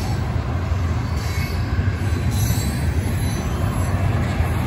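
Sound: Union Pacific freight train with stack cars passing

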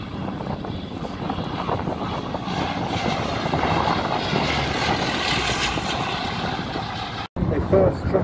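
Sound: Bristol Blenheim vintage propeller aircraft flying at air show

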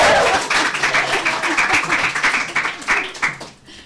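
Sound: audience applause at panel

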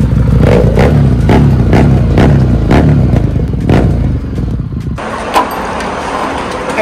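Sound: Harley-Davidson motorcycle engine revving

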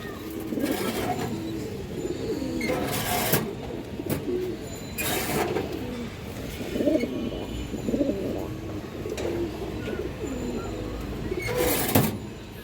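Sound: pigeons cooing

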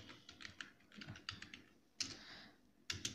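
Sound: computer keyboard typing code

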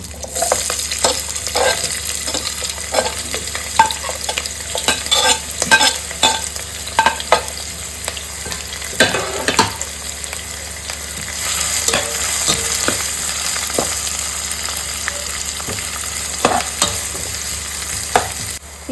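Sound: onions frying in oil

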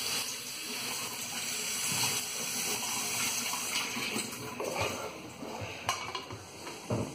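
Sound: cold water poured over boiled onions and tomatoes

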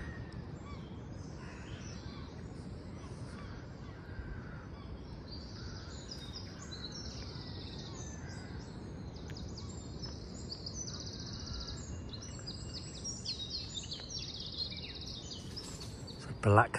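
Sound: male blackbird singing

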